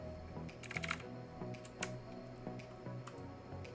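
Rapid keystrokes on a computer keyboard, a steady run of close, light clicks with a few louder taps, with no one talking.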